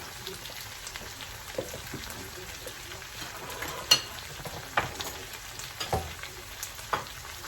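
Potato pieces simmer and sizzle in a pan as filling for a vegetable pizza, with a soft continuous crackle broken by scattered brighter pops, quiet and close with no talking.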